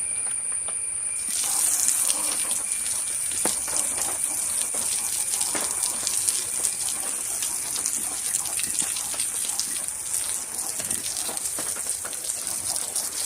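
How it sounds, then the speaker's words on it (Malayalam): Water sprays steadily onto a vehicle tyre at home, a continuous close hiss and splatter that runs almost the entire time without talk. "നല്ലോണം ഒന്ന് വെള്ളം അടിച്ചിട്ട് വൃത്തിയാക്കാം."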